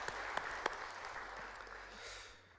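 Church congregation applauding in a sanctuary at a Korean Methodist church service, a steady broadband wash of many hands clapping with a few sharper claps standing out, fading slightly toward the end.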